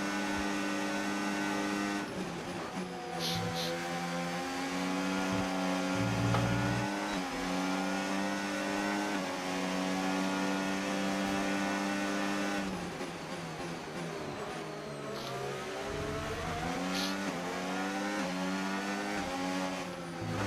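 Formula 1 race car engines in the F1 25 video game scream continuously, with high harmonic whines rising and falling through gear shifts, loud and sustained throughout.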